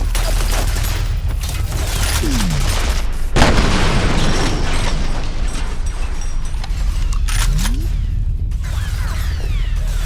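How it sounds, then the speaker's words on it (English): Turrets firing in the F.E.A.R. video game: heavy, loud booming and rattling fire over a dense rumble, with a sharp burst midway and a continuous mechanical drone throughout. "these turrets are fucking annoying"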